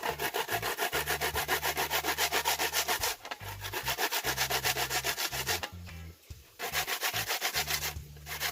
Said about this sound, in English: see the coconut grate up